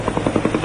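Helicopter rotor chopping in steady, loud rhythmic pulses at close range as personnel are unloaded from it during a hostage release operation in Sulu, Philippines.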